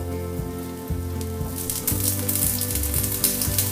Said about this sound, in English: add the brinjal disc to it